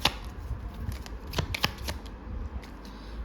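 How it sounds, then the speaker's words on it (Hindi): A deck of tarot cards is shuffled close by, giving a quick riffling flutter with several crisp slaps and snaps over about three seconds. "तो मैं इनको दोबारा शफल करूँगी"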